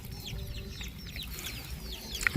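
Chickens cluck and chirp in a loose, busy stream nearby, ending with a louder squawk.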